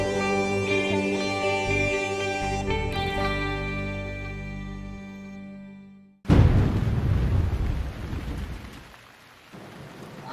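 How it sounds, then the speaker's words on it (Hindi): Heavy rain pours down with a loud thunder crack, a steady roaring wash that follows music fading out, close and dense. "ये बारिश कितनी तेज हो रही है।"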